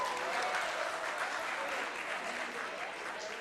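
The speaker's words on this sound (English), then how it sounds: "A huge round of applause for all of them." An audience at an award function and international conclave applauds steadily, a dense wash of clapping that fades slightly toward the end.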